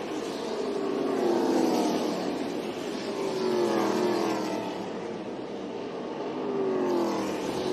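Stock cars racing laps on an oval track during a twin 100-lap race, heard as a continuous engine roar that swells and fades as cars sweep past, with rising and falling engine pitch.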